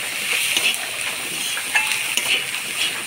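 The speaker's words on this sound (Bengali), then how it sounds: "জিরার গুঁড়া, লঙ্কার গুঁড়া, ধনের গুঁড়া, আদা কুচি আর রসুন কুচি দিয়ে নাড়াচাড়া করে নিব।" Spices, chopped ginger and garlic being stirred in a pan while cooking egg and potato bhujia, with a short close sizzle and soft scraping strokes of the spoon, no talk.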